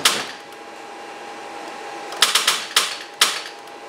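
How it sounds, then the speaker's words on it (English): A car with a weak battery is cranked and its starter answers with four quick, sharp clicks in a row, near and loud, after a low steady hum. "you got the dreaded clicking noise"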